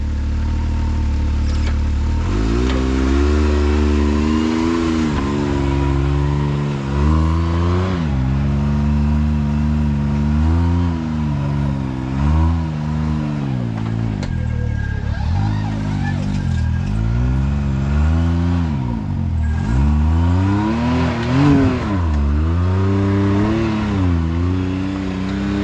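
An off-road vehicle's engine revs and surges continuously as it climbs a rocky obstacle at an off-highway vehicle park, loud and close, with rising and falling throttle bursts throughout.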